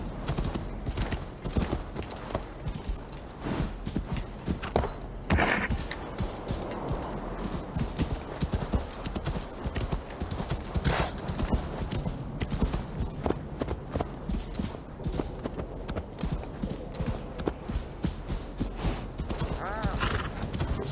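A horse in Assassin's Creed Valhalla clip-clops along in steady rhythmic hoofbeats, with an occasional whinny and faint game ambience behind it.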